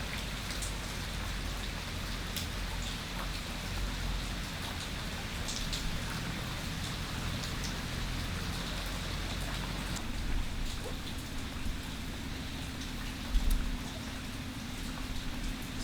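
Steady rain falls in Mexico, a constant dense hiss of drops on surfaces with occasional closer drips and taps, heard alone without talk.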